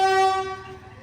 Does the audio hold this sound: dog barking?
no